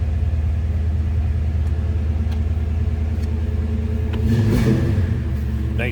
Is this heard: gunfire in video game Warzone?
no